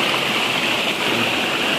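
A strong water stream rushes steadily and loudly near a dam, a dense, continuous churning flow with no other sounds.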